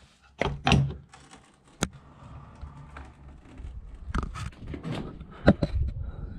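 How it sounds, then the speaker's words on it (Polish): An old door in an abandoned house in Belgium is opened with a knock, scraping thuds and rattles of creaky wood, close and moderately loud, with irregular bumps and rustling. "Ale czy można otworzyć te drzwi?"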